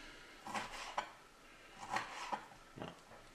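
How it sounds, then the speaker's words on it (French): A knife cutting meat into small cubes on a board, giving a few sharp clacking chops in quick irregular pairs, close and fairly quiet with no talking. "Et on coupe des petits cubes."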